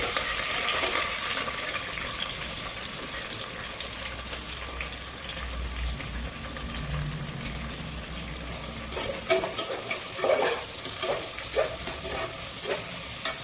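Cinnamon and other whole spices, green chili and onion fry in hot oil for egg biryani, a continuous close hiss and sizzle, with spattering pops and stirring clicks growing in the latter part.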